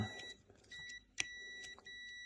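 A multimeter continuity tester on a Range Rover P38 driver's door lock actuator gives steady high-pitched beeps, one cut short and then resuming as the contact is broken and remade, close and clear with no talk.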